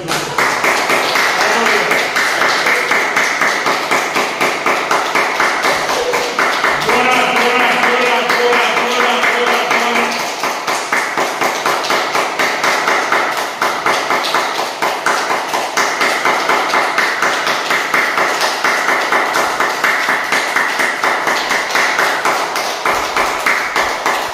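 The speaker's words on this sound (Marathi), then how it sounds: "एवढ्या टाळ्या वाजवा की त्या गायकवाड मॅडम दचकून उठल्या पाहिजे." A crowd at a yoga class claps hands loudly and continuously in a dense, rapid patter, with some talk mixed in.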